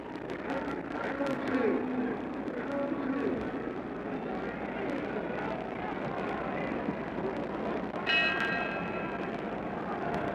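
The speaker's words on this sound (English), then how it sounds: "We're getting ready for the bell for round 2." A boxing bell rings for round 2 of the Muhammad Ali vs Ernie Terrell heavyweight fight. It is a sustained metallic ring near the end, partly masked by steady arena crowd noise and a commentator's voice.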